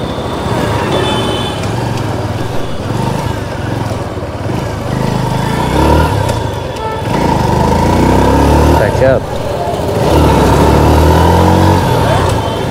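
A TVS Sport motorcycle engine with the throttle opened up while riding in traffic, a steady close engine drone swelling in bursts, heard under someone talking throughout.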